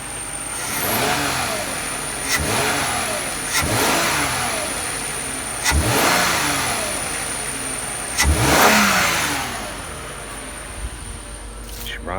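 A Lexus car engine with dual exhaust revs repeatedly on a cool morning. Several sharp throttle blips sweep up and fall back over a steady idle at close range, and there is no talk.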